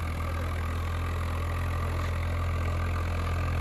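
A tractor engine runs steadily, a constant low, loud drone with a faint knocking beat, with no voices over it.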